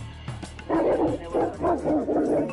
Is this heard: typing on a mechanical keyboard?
no